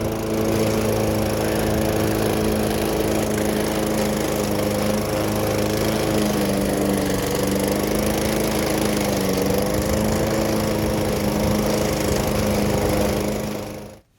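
A John Deere lawn mower engine drones loudly and steadily while mowing, an unbroken close-up roar with no voices, cutting off abruptly at the very end.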